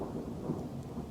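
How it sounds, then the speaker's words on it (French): Thunder from a night thunderstorm rumbles low and continuous, a muffled rolling growl with rain texture, heard from indoors without talking. "On dirait qu'il est frustré, l'orage."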